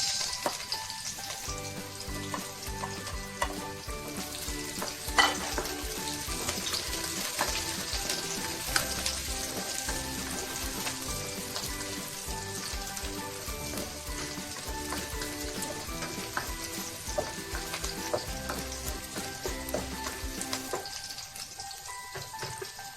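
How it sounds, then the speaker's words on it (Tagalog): Sliced onions frying in hot oil with golden-brown garlic in a pan. A dense, steady sizzle crackles throughout at constant loudness and fades slightly near the end, with no talking. "Golden brown po natin yung bawang. Next po natin yung sibuyas."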